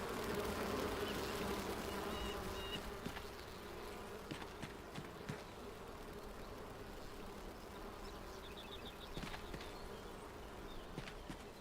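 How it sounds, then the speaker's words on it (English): Bees buzzing in the video game Enshrouded, a faint steady drone held under the game's ambient background, with a few short higher whines drifting in and out. "Let's say I heard bees."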